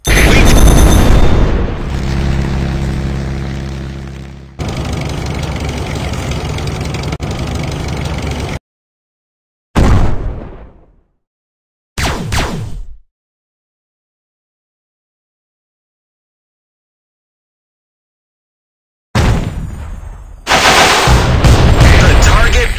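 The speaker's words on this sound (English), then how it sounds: "Shells fired." Tank shells fire in the mobile game Tank Stars as loud booming blasts and rattling bursts, separated by abrupt stretches of total silence before the heavy firing resumes.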